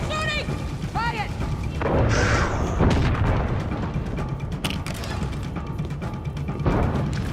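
Gunfire in the video game Far Cry 6 cracks and booms amid a chaotic battle mix, bursts of shots and heavy thuds layered under shouted voices and music.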